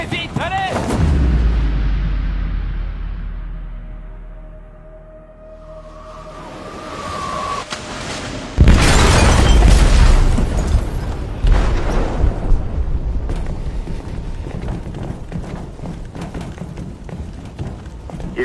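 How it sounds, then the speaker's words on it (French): An explosive detonates in a ship's hold in the Detroit Become Human video game, a sudden heavy boom midway that gives way to a long rumbling, crackling aftermath over low, tense background sound. "Ils ont déclenché un explosif dans la cale."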